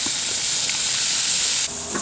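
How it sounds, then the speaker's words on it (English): Bratwursts sizzle on their sides in a hot pan, a steady loud hiss of frying fat throughout that dips slightly near the end, close up and with no voices. "we're going to just cook them on their sides about 5 minutes on each side now to finish them off"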